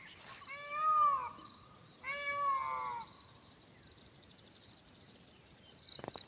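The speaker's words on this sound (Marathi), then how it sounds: "ऐकला मोराचा आवाज" Two loud, harmonic wailing calls of a peacock, each about a second long, close by and separated by a short pause, then faint rustling.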